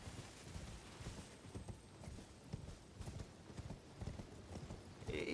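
Horse hooves gallop in Elden Ring, a steady rapid clip-clop of footfalls running through the whole stretch with a brief whinny-like burst near the end, moderately loud over faint background ambience.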